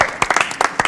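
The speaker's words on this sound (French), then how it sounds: "On peut applaudir Rémi Julienne qui n'est pas là." Studio audience applause on a 1973 French television variety show, bursts of clapping in several uneven waves, fairly close and loud, with no talk over it.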